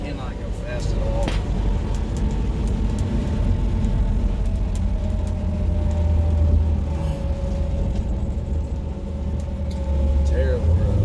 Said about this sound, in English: This road's so rough. I hate this road. Oh. So bumpy. Cannot go fast at all.